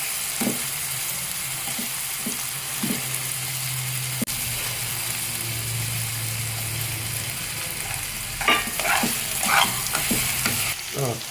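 Finely chopped onions tossed into hot oil with cumin seeds, a steady close sizzle with spoon scrapes against the pan and a few brief clicks; no voices.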